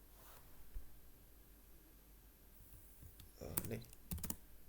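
Quick bursts of key clicks on a computer keyboard while code is typed, faint and close, with a quiet voice and soft room noise under the tapping.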